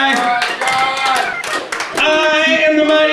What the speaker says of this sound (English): Let's have a round of applause for him real quick.